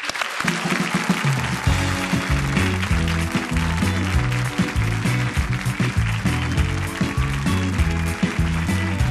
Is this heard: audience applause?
yes